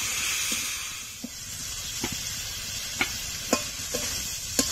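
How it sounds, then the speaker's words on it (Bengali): Spice paste of turmeric, cumin powder and Kashmiri red chili powder with a little water being sautéed in a pan for village-style rohu fish curry, a steady soft sizzle punctuated by regular spoon scrapes and taps roughly every half second. "মশলাটা কষবো।"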